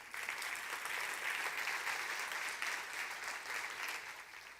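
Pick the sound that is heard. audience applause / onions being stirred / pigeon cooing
audience applause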